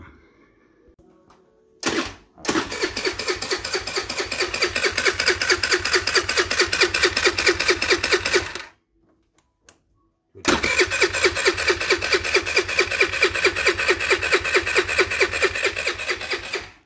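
A Chinese scooter engine cranks and catches, running with a rapid buzzing putter for several seconds, cuts out into a pause, then restarts and runs again, loud and close.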